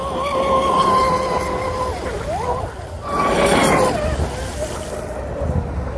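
A Blackjack 42 RC boat fitted with Rc Boat Bitz trim tabs runs on open water with the throttle turned up, its high-pitched motor whine steady and continuous, rising and falling in pitch as it speeds past over wind and water noise.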